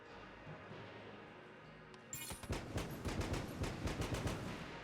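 Gunfire from the video game Enter the Gungeon, beginning about halfway through as a dense run of rapid sharp shots and bursts, loud and close over a steady game background hum.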